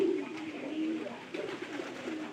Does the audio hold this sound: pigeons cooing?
yes